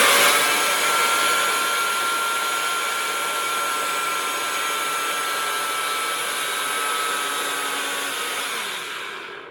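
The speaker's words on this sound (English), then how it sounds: "if you are blending it yourself with a NutriBullet" A NutriBullet blender with a milling blade grinds nuts for nut-free brown bread, giving a loud, steady high-pitched whir that runs continuously before cutting off at the end.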